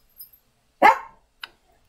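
A dog gives a single sharp bark, fairly close and loud, followed by a shorter faint yip; quiet otherwise with a small sound just before.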